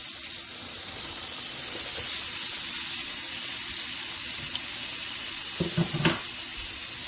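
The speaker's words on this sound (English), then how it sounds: "we're going to go ahead and add our cabbage now" Shredded cabbage sizzles steadily in a hot pan while being sautéed for hibachi fried rice, a continuous close frying hiss with a few louder stirring scrapes near the end.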